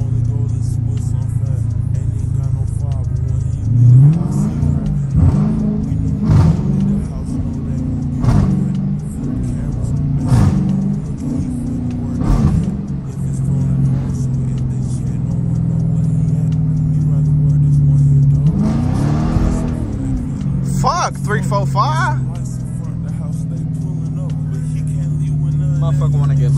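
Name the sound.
Dodge Challenger RT engine revving on dyno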